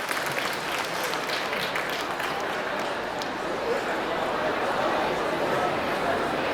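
A continuous wash of audience applause at a Tet festival opening ceremony in Montreal, steady and full throughout, with crowd murmur and voices mixed into it.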